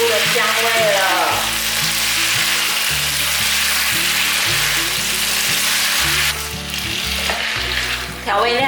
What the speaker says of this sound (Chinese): 还有1茶匙的酱油，把调味料炒均匀。